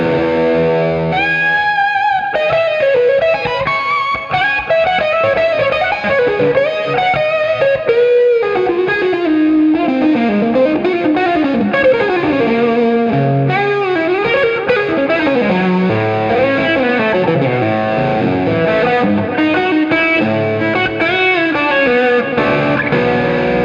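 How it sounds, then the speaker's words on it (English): Electric guitar played through a Marshall head with bright reverb added after the mic, driven lead lines and rapid melodic runs ringing loudly and continuously, no voices. "So now I'm going to play some stuff with the reverb added post the mic."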